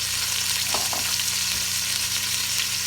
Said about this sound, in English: Now I just want to get a good sear